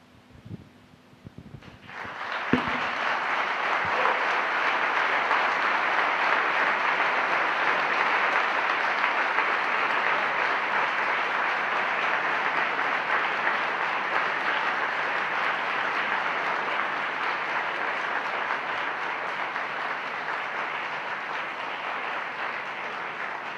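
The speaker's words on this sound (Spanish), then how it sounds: "Les agradezco, emocionado este aplauso" Sustained audience applause fills the room after an academic forum lecture, starting abruptly after a brief pause and holding steady, dense and loud for over twenty seconds with no talk over it.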